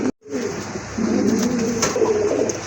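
Rajgolla pigeons at a pigeon sale, with soft, close, continuous cooing over low room noise.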